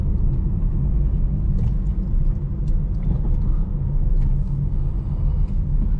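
A Honda HR-V slows on a wide one-way road, heard as a steady low road rumble and engine hum that stays fairly loud throughout, with no talk.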